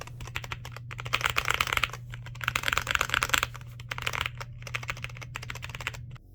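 Full-size Speed Silver mechanical switches on a FightBox B-Pro leverless fight-stick controller, pressed in rapid clattering bursts of dense clicks over a steady low hum, close and alone.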